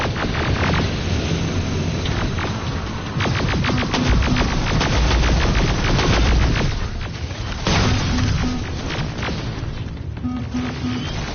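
Rapid gunfire and booming blasts fill a firefight in the video game Terminator Resistance, dense bursts of repeated shots and explosions layered over a loud, continuous battle din.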